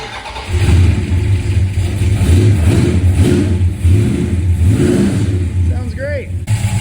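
A 1968 Dodge Charger with a swapped Magnum V8 cold-starts and settles into a loud, rough, uneven idle with rumbling low pulses, and a voice talks over it.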